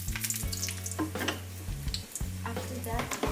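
Dry chili goes into a hot pan and sizzles up close as it is stirred, with crackling bursts, scraping and a low steady hum underneath.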